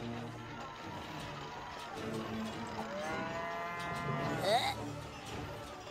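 Nazi cows in the South Park: The Fractured but Whole video game moo in long, drawn-out calls that swell and bend over a steady game background, with a sharper rising cry near the end.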